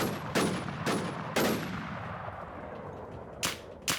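Gunfire in the survival shooter game SurvivalZ: a few sharp, loud shots in quick succession, then a pause and two more cracks, each decaying quickly against a faint background.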